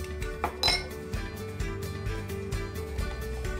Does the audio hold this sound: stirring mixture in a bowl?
yes